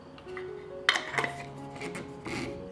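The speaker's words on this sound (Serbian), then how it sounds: "I tegle zatvaram sa čistim i novim poklopcima." Clean glass jars filled with water are sealed with new lids, producing a few sharp glassy clinks and metallic clatters spaced over a couple of seconds against a quiet room.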